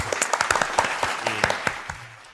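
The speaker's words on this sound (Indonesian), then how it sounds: "Tepuk tangan dulu dong." A small group of Namira Islamic high school students claps for their first school podcast, with sharp, close, uneven individual claps that gradually thin out.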